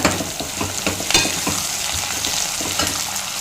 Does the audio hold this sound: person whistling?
no